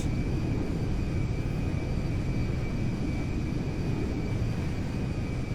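Loud, steady engine roar of a large firefighting airplane in GTA 5, a continuous droning rumble with a faint high whine and no talking.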